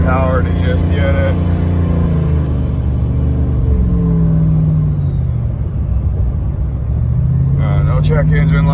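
A lifted Ram 1500 Hemi truck with a six-speed and turbo accelerates while driving. Its loud, close engine drone rises in pitch through the gears, with a shift and renewed climb toward the end.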